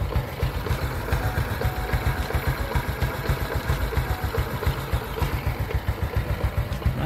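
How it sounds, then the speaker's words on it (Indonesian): A Honda Kirana 125 motorcycle engine idles close by with an even, rapid pulsing rhythm, steady and moderately loud, no voices. "Dan ini suara mesinnya."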